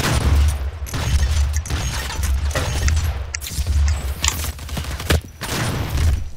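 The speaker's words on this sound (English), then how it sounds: "Okay, grenade launcher time." Grenade launcher fire in DOOM 2016 multiplayer, loud booming blasts and explosions in repeated bursts over dense, continuous game noise and heavy low rumble, with no speech.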